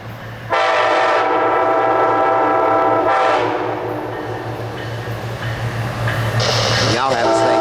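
CSX freight train P089 heads south past the milepost and sounds its horn in two long, loud blasts, then rumbles on, with another short horn note near the end.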